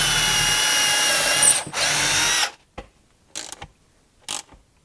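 Power drill driving screws into a wall mount for a pressure washer. It whirs loudly and steadily for a couple of seconds, then cuts off, leaving a few faint clicks and knocks.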